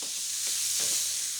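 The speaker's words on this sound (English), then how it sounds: "this just needs to be turned in the pan, and all the gubbins from frying the chicken" Chicken fries in a pan and gets turned over, giving a steady close hiss of sizzling fat with soft scraping stirs. No one speaks.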